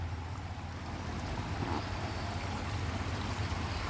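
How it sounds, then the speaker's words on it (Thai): Steady broadband rush of water pouring from a ready-made garden waterfall ornament at an outdoor garden-decor shop, a continuous even splash with a low hum underneath and no speech. "นี่จะมีน้ำตกสำเร็จรูปครับ"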